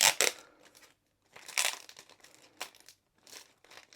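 A glue strip on a resealable plastic kit bag is peeled back slowly, giving close crinkly crackling in several bursts with short pauses between them.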